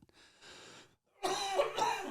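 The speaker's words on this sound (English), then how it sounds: "I've had a cough for a month and I can't get rid of it" A single soft throat sound, then a harsh, loud cough burst from a month-long cough, close to the mic, with a brief pause between.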